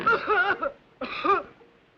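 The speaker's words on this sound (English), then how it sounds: "Bad cough." Two close, harsh coughing fits, each a raspy voiced burst with a short pause between them.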